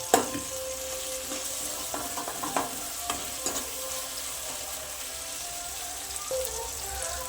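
Onion and tomato sautéing in a pan for tomato thokku: a loud, continuous sizzle punctuated by repeated scraping stir strokes and light taps of the spoon.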